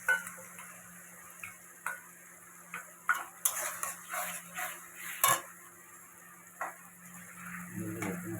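Utensil scraping and tapping in a pan while lote fish is stirred with green chilies, soft irregular clinks over a faint steady hum, no talking.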